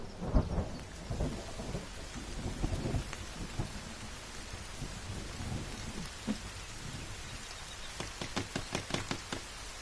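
Steady rain and rolling thunder from a storm in the survival video game The Forest, a continuous wash of rainfall with heavy low rumbles early on and a run of sharp crackling strikes near the end, no talk.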